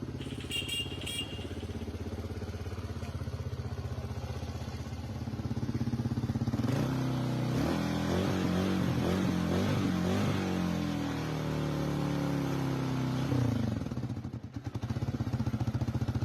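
A dirt bike engine started from a capacitor in place of its battery idles steadily, loud and close, rising briefly in a rougher, busier burst before settling and cutting out near the end, with no voices.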